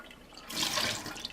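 Water is poured over sprouting buckwheat groats, a sudden rushing splash that swells, holds for under a second and trails off into sloshing.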